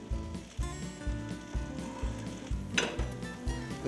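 Fresh Canadian mushrooms frying in a pan give a steady moderate sizzle, with a regular low thumping pulse running underneath.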